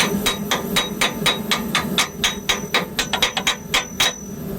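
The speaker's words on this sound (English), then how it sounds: "Nice slag hammer, huh?" Slag hammer chipping weld slag off a fresh bead from a Rilon welder: a quick run of sharp metallic taps, about twenty strikes in steady rhythm that speed up toward the end, close and fairly loud, with no talking.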